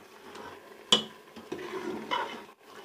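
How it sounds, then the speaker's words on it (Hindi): Ojri salan with fenugreek is stirred and fried in a pot: a sharp clang of a spoon against the metal near one second, another knock later, and a soft, steady sizzle underneath throughout. "तो अभी हम मज़ीद 2-3 मिनट भून लेंगे इसको।"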